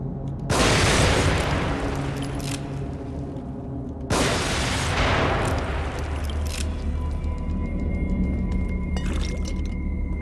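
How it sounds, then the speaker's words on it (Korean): Gunfire in the PS4 horror game The Evil Within: two loud, booming blasts a few seconds apart, each with a long rumbling tail under a continuous game background. "그냥 쏘자 이거. 총 쏘자."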